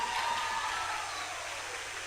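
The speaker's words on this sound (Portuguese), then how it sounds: "uma salva de palmas aqui, olha" Audience applause at a lecture, a steady wash of many hands clapping, fairly distant and even, continuing throughout without talk.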